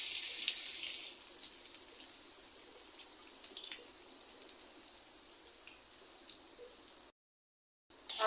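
Chopped onions frying with cinnamon and cardamom, giving a steady, close sizzling hiss that fades slightly over time and is briefly interrupted by a moment of silence near the end.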